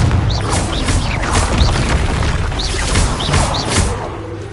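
Repeated blasting spell explosions in a Harry Potter video game, a rapid series of loud booms and crashes mixed with whooshes, coming one after another at a steady pace.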